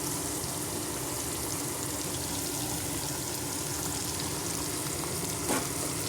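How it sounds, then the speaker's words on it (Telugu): Onions, green chilies and curry leaves frying in a pan for upma, a steady close, loud sizzle throughout with a brief stirring scrape near the end and no speech. "గోల్డ్ కలర్ వచ్చే వరకు ఫ్రై చేసుకుందాము."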